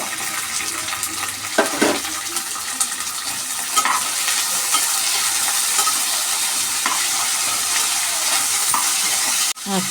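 Onion, fresh field beans and peas frying in a pan after mustard seeds, heard as a steady close sizzle with occasional stirring scrapes and no speech.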